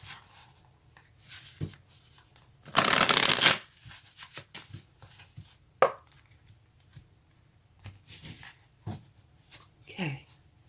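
Tarot cards shuffled in one loud riffling burst near the mic, followed by scattered soft card taps and handling sounds, with a voice talking quietly in between.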